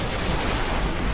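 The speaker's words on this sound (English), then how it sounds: "Grenade out." A grenade blast in the Destiny beta's Array mission on Xbox One, a loud, dense burst of broadband rumble filling the whole short moment with no clear attack or decay, heavy low-end boom throughout.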